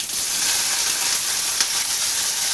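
Seasoning spluttering and sizzling steadily in hot oil in a pan for a South Indian potato masala, a dense continuous crackle close to the microphone with one brief sharper pop, no voices.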